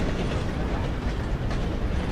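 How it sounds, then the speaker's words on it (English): In Red Dead Redemption 2, a train pulling into a station gives off a dense, steady rumble and hiss, loud and unbroken across the short stretch, with no clear separate clacks standing out. "Got a train pulling into the station real"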